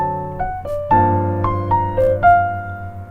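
Solo piano slowly playing a jazz 2-5-1 progression, with rich sustained chords struck one after another and brief upper melody notes ringing over the held harmony, no voices.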